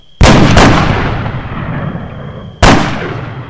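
Two loud, sharp gunshots from the video game Arma 3 crack out a couple of seconds apart, each followed by a long, fading rumbling echo.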